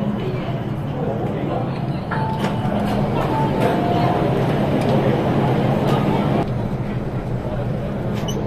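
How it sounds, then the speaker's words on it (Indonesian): Metro train pulling into a station in Hong Kong, a continuous loud rumble with squealing tones and clanks, while people talk nearby. "Keretanya datang."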